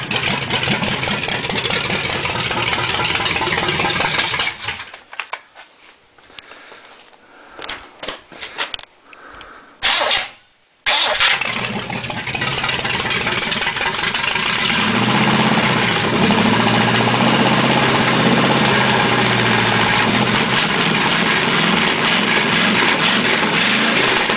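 An engine that has sat unused for a long time, with positive wired to the coil, cranks briefly, catches and runs with a loud, steady drone that dips partway through, then keeps idling.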